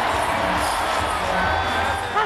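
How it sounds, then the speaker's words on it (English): An elated concert crowd cheering wildly for a dancing performer, a dense, continuous roar of voices and shouts that stays steady and loud for the whole short stretch. "Enjoying wild cheers from the elated crowd, Patapizi found a reason to dance."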